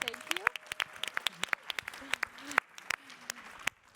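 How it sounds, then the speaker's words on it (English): Audience applause at a conference startup showcase, a burst of many hands clapping at close to moderate distance, with a few voices calling out over it. "Please join me in giving Abea a round of applause."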